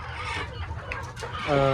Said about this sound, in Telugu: చూడండి మన కోళ్ళు అలాంటి వర్షాలు కూడా కొంచెం లైట్ నానినాయి